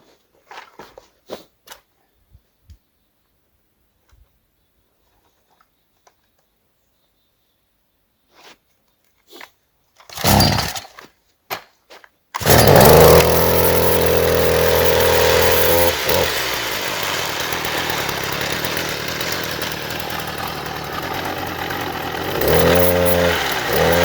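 A gasoline engine-powered ice-cutting machine for a backyard pond rink sputters through a few pulls and brief bursts, then catches and settles into a loud, steady, buzzing idle as it warms up, close by and alone.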